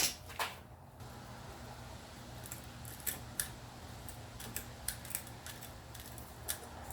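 Quiet, scattered snips and clicks of scissors cutting metal-reinforced hose for an AN fitting on a 1956 Volkswagen Beetle, over a low background hum, irregular and faint.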